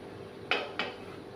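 A metal lid lifted off a cooking pot of sardine fish curry, two quick clinks close by in a quiet kitchen, with no voices.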